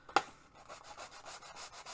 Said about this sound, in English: And I will try to do the sanding bit off the desk